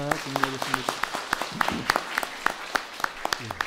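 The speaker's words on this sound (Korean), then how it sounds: "잘 맡아 수고해 달라는 마음으로 박수하겠습니다" Congregation claps in a church during a Sunday service, a sparse scatter of separate hand claps with sharp irregular peaks, while a voice talks over it near the start.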